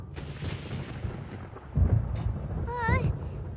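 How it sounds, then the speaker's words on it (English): Thunder in Genshin Impact, a deep rolling rumble that swells partway through, with a brief tonal game sound near the end. "Paimon hears thunder!"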